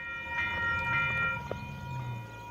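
High-speed Oscar passenger train passing at Bellambi station, a steady loud rumble with a sustained horn-like tone and clattering wheel thumps, close by and continuous throughout.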